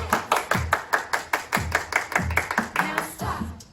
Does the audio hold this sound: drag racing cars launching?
no